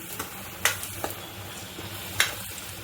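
Misal masala being stirred into a pan for Kolhapuri misal, a few soft scraping strokes and clicks against a low simmer, close and fairly quiet.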